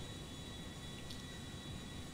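Steady broadband roar of an airliner cabin in flight as the plane nears landing, jet engine drone and air rush filling the whole space continuously with no voices.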